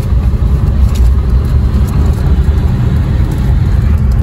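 A Maruti Brezza drives along a mountain road on the way into Himachal Pradesh, giving a steady, loud engine and road rumble with constant wind and tyre noise and no voices.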